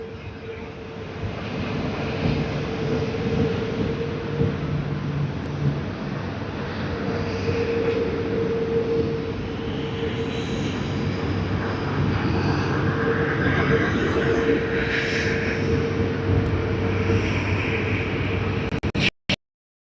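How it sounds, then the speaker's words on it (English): Qantas Airbus A380 taxiing toward the runway at Sydney Airport, a steady low engine drone with a sustained hum, heard from a distance under wind noise, continuous for the whole stretch. "I see Qantas A380 taxiing to the runway"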